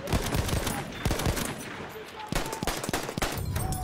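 Pistol fire in Battlefield 1 multiplayer, with a rapid run of sharp cracking shots close by and irregular bursts amid other battle noise.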